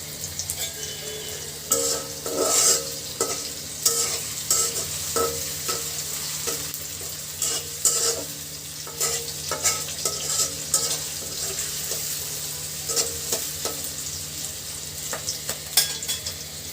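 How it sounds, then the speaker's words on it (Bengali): Sliced onions fry and get stirred in a pan, with a steady crackling sizzle running throughout and repeated clinks and scrapes of a utensil against the pan at an uneven rhythm, close and fairly loud. "পেঁয়াজটা কিন্তু ভাজি হয়ে গেছে"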